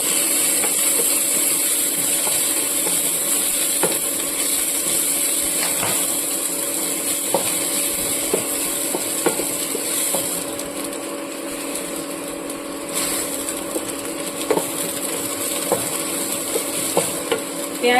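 Chopped onion fries in oil with small hot chui chillies, a steady hiss throughout, punctuated by regular light scraping and tapping of a spatula against the pan at close range.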